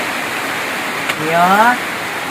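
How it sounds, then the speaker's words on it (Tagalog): Heavy rain pours down in a steady, dense hiss that fills the whole stretch, with a short spoken word and a brief voice rising over the downpour near the middle. "Ginoo ko ang ulan."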